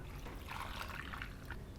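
Four cups of water poured into a pot over a birria bomb for beef tacos, a steady splashing, trickling stream that rises after the first half-second and runs on, close and moderately loud.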